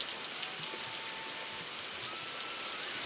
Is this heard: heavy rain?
yes